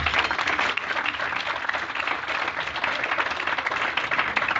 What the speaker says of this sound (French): qu'on puisse tous applaudir Raphaël très très fort